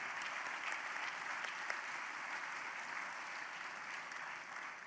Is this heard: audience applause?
yes